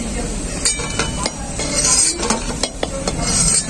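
Fried fritters being lifted out of a sizzling pan, metal spatula scraping and clinking against the pan in quick irregular strikes over a low background frying hiss.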